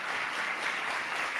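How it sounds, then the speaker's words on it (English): A short burst of steady audience applause fills the room as a debater is welcomed onto the stage, dense and continuous with no talk. "Give him a round of applause"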